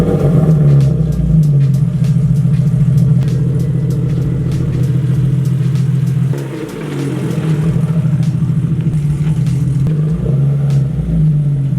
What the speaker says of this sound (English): We have another cold start.